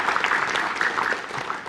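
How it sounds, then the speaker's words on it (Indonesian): Lively applause from a studio audience of university students at a televised Indonesian debate show, a dense steady patter of clapping close by with no voices over it. "Kalau Anda dengarkan tepuk tangan yang begitu meriah"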